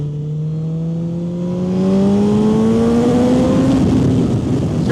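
BMW S1000 XR M Edition motorcycle with an Akrapovic full race exhaust and Stage 2 tune revving up on wet roads, a loud rising engine note climbing steadily in pitch and growing louder over a few seconds, close by.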